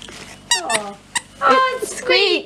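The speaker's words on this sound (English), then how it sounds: "Oh, it squeaks!" A new squeaky dog toy squeaked repeatedly in short, high bursts at close range, mixed with excited talk from a woman praising the dog.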